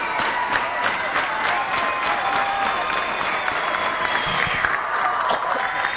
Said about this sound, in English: The crowd's on their feet for the Titans.